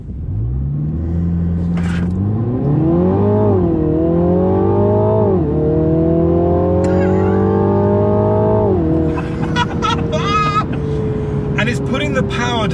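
A 2020 Mini Clubman JCW, 300 bhp with four-wheel drive, launches hard on launch control, accelerating through rising gear pulls, loud and close, then eases off as people talk over it.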